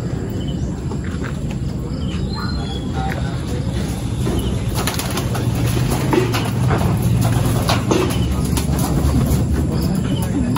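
Racing pigeons coo softly in a loft over a constant background hum, with occasional wing flutters and a brief voice in the middle.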